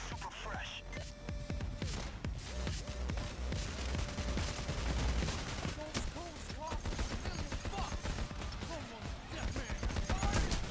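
A sentry gun in the game Payday: The Heist keeps up dense, sustained automatic fire in a chaotic firefight, loud and continuous, with players talking over it.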